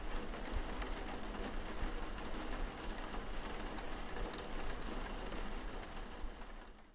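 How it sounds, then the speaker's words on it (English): Steady rainfall patters continuously on surfaces, a soft, even hiss with a faint low rumble underneath, fairly quiet throughout. "Number 3, the sound of rain, and how God waters the earth"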